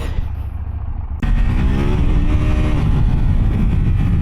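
A 2026 KTM 790 Duke motorcycle engine idles, then abruptly revs up into a loud, rising growl that holds steady up close.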